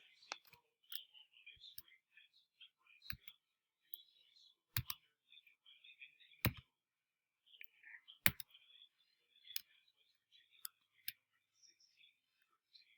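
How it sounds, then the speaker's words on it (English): Someone enters a password on a computer keyboard: sparse, sharp key clicks come in small bursts with pauses in a quiet room, and faint whisper-like sounds drift in between. "So I'm going to enter the password."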